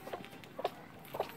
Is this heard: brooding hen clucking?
yes